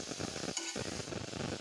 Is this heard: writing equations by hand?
no